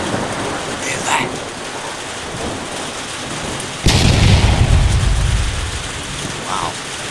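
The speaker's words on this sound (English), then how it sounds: "I've got some really good welcome rain. And a bit of thunder, lightning." Steady morning rain falls throughout in Cobram, then a loud, rumbling crack of thunder bursts in partway and rolls on for a few seconds before fading back into the downpour.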